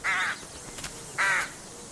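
A rook gives two short, harsh caws about a second apart. The calls are fairly faint and distant, with quiet outdoor background between them and no voices.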